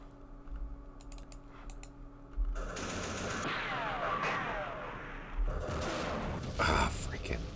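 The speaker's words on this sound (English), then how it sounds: "I'm going to do some firing" Weapons firing in a Vietnam War strategy game, with a volley of rapid gunfire and muffled explosions building partway through, set against quiet clicking of a computer keyboard and faint background voices.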